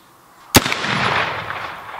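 A Model 1873 rifle fires a single black powder round: one loud, close boom that rolls out into a long, fading rumble.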